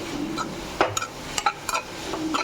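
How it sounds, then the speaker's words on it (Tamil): Grated carrot stuffing for chapati sautéing in a pan, with a low steady sizzle under several sharp scrapes and taps of a spoon stirring against the metal, close by. "அதையும் வதக்கிக்கலாம்."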